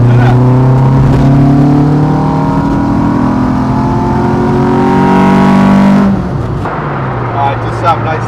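An RS1600i car engine running on carburettors revs up and down in long rising and falling sweeps, loud and close, then settles to a lower drone, with people talking over it.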